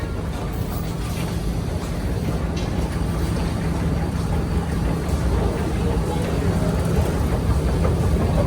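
A Singapore MRT train at Bugis station gives a steady, loud rumble and hum of rolling rail traffic, continuous for several seconds with no clear voices.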